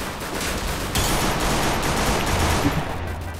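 Rapid pistol gunfire in a mobile shooter video game, a dense continuous burst of shots loud and close with no pauses between them.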